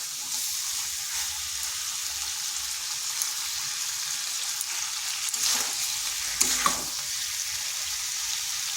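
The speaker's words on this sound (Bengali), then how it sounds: "আর এইভাবে কিন্তু কষিয়ে নিতে হবে, তাহলে এর টেস্টটা ভালো হবে" Cauliflower curry fries in a pan with a steady sizzle. Stirring scrapes swell briefly in the later part.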